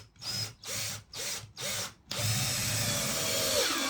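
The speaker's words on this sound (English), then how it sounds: "key one is screwing both sides of this join onto the joist" Power drill driving screws at an angle through chipboard flooring into a joist, in four short bursts with gaps, then one long continuous whir.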